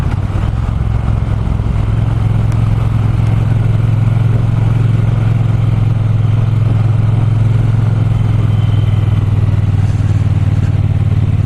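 A Triumph T120 Bonneville 1200cc twin motorcycle rides along with a steady, loud low engine drone that holds an even pitch throughout, with faint clatter and wind on top and no talking.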